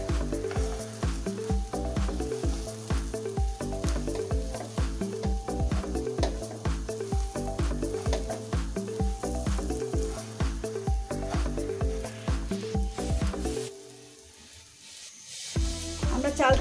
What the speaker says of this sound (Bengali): চালটাকে আমরা ভালোমতো ভেজে নেব।